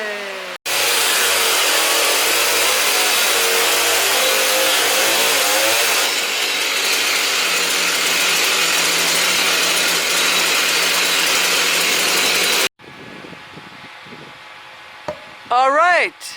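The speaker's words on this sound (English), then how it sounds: "start the chainsaw for the last window of the cabin" Chainsaw cutting a window opening into a log cabin wall, a loud, close, sustained snarl of revving that eases into a steadier cut, then stops abruptly before a few quieter knocks and a short voice at the end.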